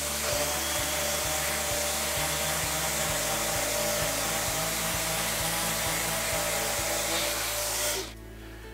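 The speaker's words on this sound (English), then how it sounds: "Let me turn my dust collection on." A workshop dust collection system runs at a workbench with a loud, steady roaring hiss and a low hum, underneath a rhythmic thumping; the roar cuts off sharply near the end, leaving a quieter hum.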